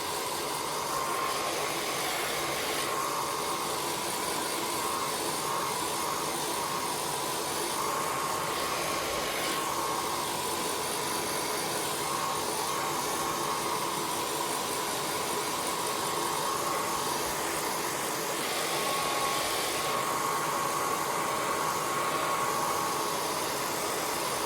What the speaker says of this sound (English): I'm going to use the hairdryer.